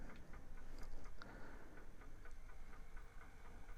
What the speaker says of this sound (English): So the locomotive is now pulling